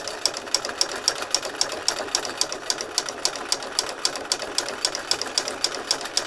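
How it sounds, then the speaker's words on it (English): A sewing machine runs steadily while stitching around a fabric circle a second time for a flower, with a fast regular needle clatter at constant speed, close and clear with no talking. "I'm going to stitch around it a second time"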